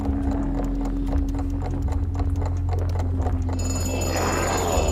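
Egg timer ticking in a video game, a steady run of quick clicks over a constant low hum and game background noise, with a brighter tonal texture entering near the end.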